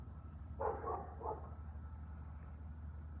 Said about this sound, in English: That's the neighbor's dog.